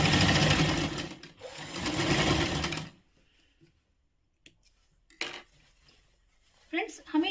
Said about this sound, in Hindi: थोड़ी सिलाई वापस लेके जाएंगे।